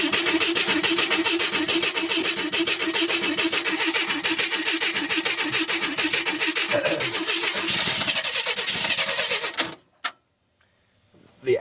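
A fuel-soaked engine being cranked with gasoline spilled all over it: a fast, even mechanical chatter runs steadily for several seconds, then stops abruptly into near silence, with a brief faint click after.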